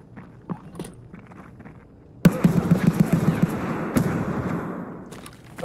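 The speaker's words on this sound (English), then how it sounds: "He like flashbanged me, weirdly enough." A flashbang grenade bursts in Escape From Tarkov with a sudden loud bang, followed by a ringing, hissing wash that slowly fades over a few seconds.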